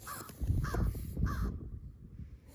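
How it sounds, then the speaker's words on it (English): A crow caws three times outdoors, loud and fairly near, in an even rhythm, and then the air goes quiet. "There's a bird."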